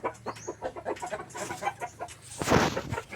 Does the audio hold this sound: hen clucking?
yes